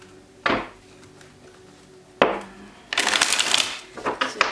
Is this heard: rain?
no